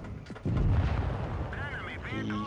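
A tank cannon fires in the World of Tanks Blitz video game during a fight with an IS-3, giving a single heavy, booming shot with a long rumbling tail and someone talking over it.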